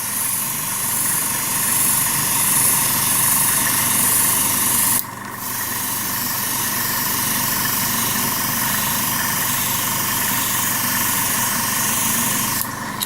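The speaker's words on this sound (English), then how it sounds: "So with an airbrush, you obviously can get quite a lot more done quite quick." An airbrush sprays paint across a 7mm-scale model railway layout under construction. A steady, close airy hiss runs almost the whole time, with a short break near the middle and another near the end.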